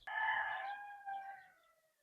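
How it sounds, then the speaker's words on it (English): A rooster crows once on a Dahab beach in Egypt, a single fairly faint call with a long, trailing tonal cry that fades out, heard alone without talk. "Do you think roosters get sore throats from all that yelling?"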